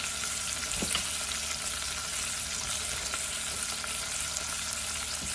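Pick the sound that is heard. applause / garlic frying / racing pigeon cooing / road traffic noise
garlic frying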